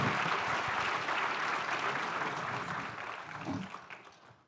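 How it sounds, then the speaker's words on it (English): Audience applause for a college baseball panel at an annual luncheon, a steady wash of many hands clapping at moderate level, thinning and fading out toward the end. "give our folks on the panel, Coach Myers, Tyler Minnick, Clay Badalak, and Landon Birch, nice round of applause."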